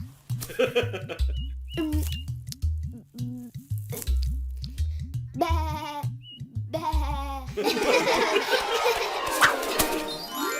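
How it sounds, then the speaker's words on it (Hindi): Cartoon sheep bleat over and over in quick, wavering cries that overlap and repeat throughout, joined by some chirpy sounds and a burst of busier noise toward the end. "अपनी भेड़े संभालो श्रीधाम"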